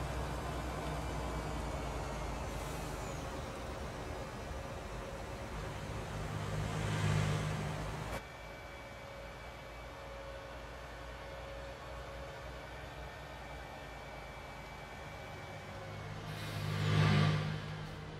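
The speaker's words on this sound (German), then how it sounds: "Autos sind laut hier." Steady engine hum from cars in the video game Farming Simulator 19, with two louder passes swelling and fading, one midway and one near the end.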